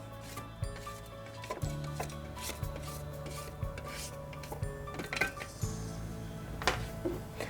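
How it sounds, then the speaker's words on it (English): A spatula scrapes down the inside of a blender bowl holding garlic aioli mayonnaise ingredients, making close, intermittent rubbing strokes and light knocks over a low steady hum. "So I'm going to scrape down the bowl."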